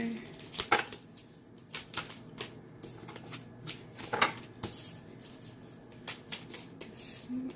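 Sharp riffling bursts of a deck of cards being shuffled, a few crisp flurries spread out over quiet room noise.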